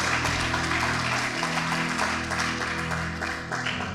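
Congregation applauding for God during a church service, a sustained wash of clapping over a steady organ or keyboard chord that holds beneath it.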